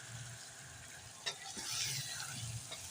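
Chicken with six or seven whole green chilies frying in a pan, a steady soft sizzle with a few sharp stirring scrapes and clinks, close and alone with no voices.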